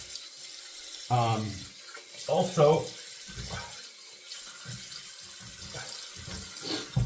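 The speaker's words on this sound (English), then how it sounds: "we'll rehydrate again with some hot water" Hot water runs from a bathroom tap at a low steady level, with a voice speaking briefly over the flow.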